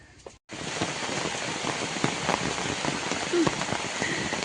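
Rain falling steadily on a surface, a dense, even patter of drops that starts abruptly after a brief quiet moment and continues without pause.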